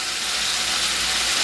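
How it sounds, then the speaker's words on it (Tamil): Tomato, onion, garlic, green chilli, ginger, fennel and cinnamon sauté in a pan for tomato pongal, giving a steady, even sizzling hiss throughout with no voices. "வதக்கிறது பார்ப்போம்."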